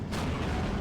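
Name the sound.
tank cannon shot, KV-85 firing at T-34 in Steel Division 2 video game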